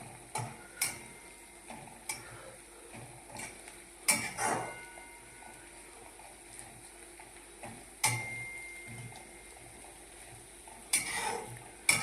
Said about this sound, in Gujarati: આ રીતે શેકી લેવાનું લસણ આદુ મરચાંની પેસ્ટને, ધીમા ગેસે શેકવાનું